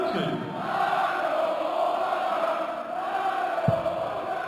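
A big indoor darts crowd roars and shouts in a sustained, dense wall of noise, heard from within the audience, with a brief sharp knock near the end.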